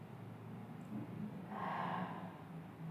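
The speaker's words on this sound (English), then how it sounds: "One more deep breath here" Slow, deep breath during a calm yoga practice, a long soft airy inhale-exhale swelling in the middle of the stretch over a low steady background hum, close and gentle with no talking.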